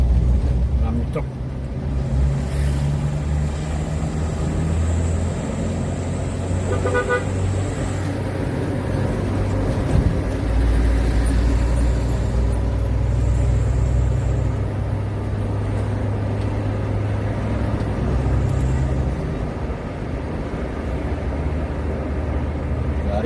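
Busy night road traffic full of trucks on the way from Lahat to Palembang: a loud, steady engine and road drone heard from inside a moving vehicle, with a few horn toots.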